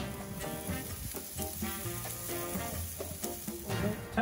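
Spatchcock chicken sizzles on a grill on a cold day, a faint continuous crackle and hiss with scattered pops and a faint tonal hum in the background.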